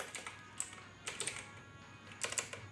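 Quick bursts of keystrokes on a computer keyboard, faint and close, clicking in short irregular clusters separated by brief pauses, with no voices.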